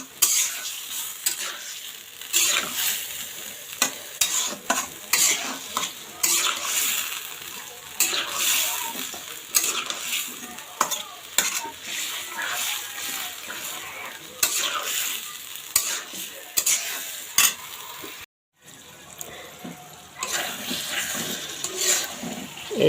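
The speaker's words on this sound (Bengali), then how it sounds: "আমি আলু আর পেঁয়াজটা খুব সুন্দর করে কষাই নিয়েছি" Potatoes and onions sautéing with spice paste in a pan for an egg curry, steady sizzling frying with repeated scraping stirs of a spoon against the pan, one brief pause near the end.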